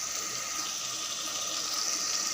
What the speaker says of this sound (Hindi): अब मैं फिर इसको पानी दे रही हूँ।